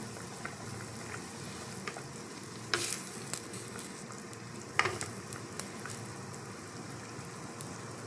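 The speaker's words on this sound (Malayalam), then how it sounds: "ഇത് നമ്മുടെ മീനിൻ്റെ പുളിവെള്ളം നന്നായിട്ട് തിളയ്ക്കുന്നുണ്ട് കേട്ടോ." A pot of tamarind water for fish curry bubbling at a steady boil, with a constant low hiss and a few sharp clinks of a utensil against the pot.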